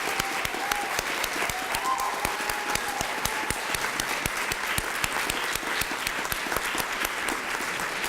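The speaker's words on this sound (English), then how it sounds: "Let's applaud for your support system today." Applause from an audience at a college transfer ceremony, dense continuous clapping from a large crowd, steady and fairly distant for the full eight seconds.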